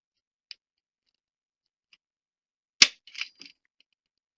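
A Taurus TX22 pistol dry-fires under a trigger pull gauge: a few faint ticks, then one sharp loud snap of the striker, followed by a quick cluster of softer mechanical clicks, close and isolated with no speech.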